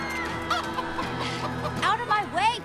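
Chickens in the video game Minecraft: Story Mode cluck in a steady run of short, fairly close calls, with a few rising squawks near the end, over a low ambient game tone.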